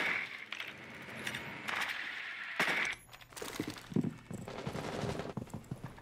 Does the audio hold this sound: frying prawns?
no